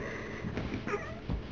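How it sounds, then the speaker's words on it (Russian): Dog sniffing close to the microphone indoors, a few short quick snuffling breaths over a steady background hum. "Это собака, это не кот."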